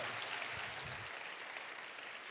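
Faint, steady applause from a conference audience thanking a church worship team, a continuous wash of distant clapping with no voices.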